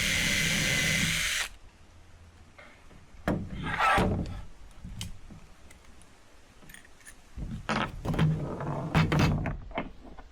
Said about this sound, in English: Every screw needs a pilot hole and then countersinking.